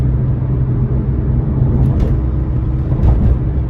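A Porsche 997 sports car cruises through a neighborhood on a Sunday morning, its engine a steady, loud low rumble heard from inside the cabin with a few faint rattles on top.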